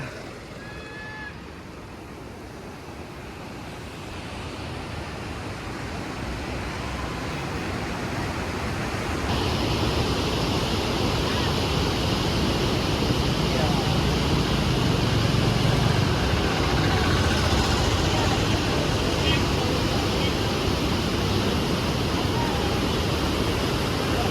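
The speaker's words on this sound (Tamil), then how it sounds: "பாருங்க எப்படி தண்ணி போகுதுன்னு" Loud, continuous roar of rushing river water pouring from the opened Mettur Dam, growing heavier partway through and staying dense throughout.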